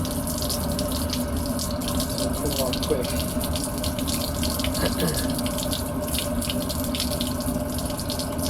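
Water runs steadily out of the plumbing of a 2012 Keystone Passport 3220 BH travel trailer being drained for winterizing, a continuous near gushing flow with a voice speaking briefly over it.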